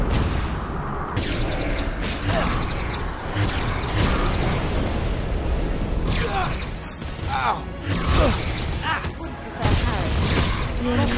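Repeated blasting explosions from the Confringo curse in a Harry Potter and the Deathly Hallows video game, with dense rumbling booms and crackling mixed with shouted voices and continuous battle noise.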